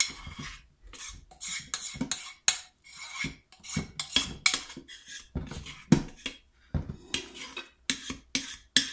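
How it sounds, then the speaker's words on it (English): Hot process soap being scraped down from a pot, heard as repeated close scrapes and knocks of a utensil against metal in an irregular rhythm, with no talking over them. "now I'm going to go ahead and scrape it down"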